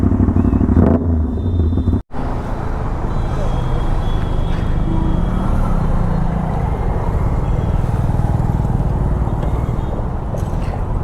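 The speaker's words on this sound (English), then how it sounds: "This is the Aprilia RS 660 with the SC Project full system exhaust." An Aprilia RS 660 sport motorcycle's loud SC Project full titanium exhaust drones and rumbles steadily near the listener, with a brief cut at about two seconds before the raw engine roar resumes.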